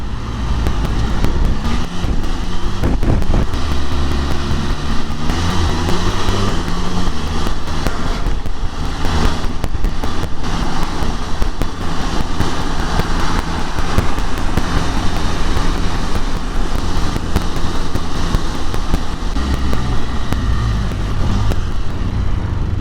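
A Can-Am Spyder three-wheeled motorcycle rides in brutally cold weather, its engine drone mixed with loud, constant rushing wind and road noise that holds steady throughout with no talking.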